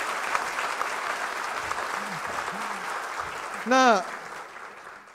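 A forum audience claps in a broad, continuous wash of applause throughout, moderately close, while a voice speaks over it in short phrases.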